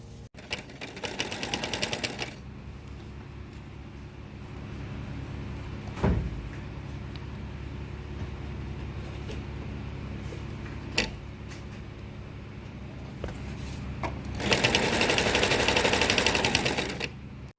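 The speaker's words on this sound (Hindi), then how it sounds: "तो चलें सबसे पहले मैं ये स्टिचिंग करके इस पे चेन लगा के फिर आपसे मिलती हूँ।" A sewing machine stitching a zip onto a pillow, in two loud rapid whirring bursts at the start and end, with scattered handling clicks and knocks between.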